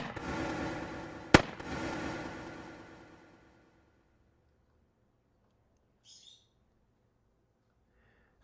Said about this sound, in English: So here's the remote rifle.